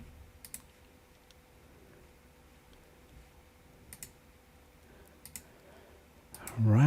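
Mouse clicks on a computer, a few sharp, isolated ticks spaced seconds apart over a quiet room, then a brief burst of voice at the end.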